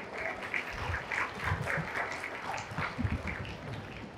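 An audience at a youth gathering claps for a speaker, producing a dense, steady patter of applause of moderate loudness with a faint murmur underneath.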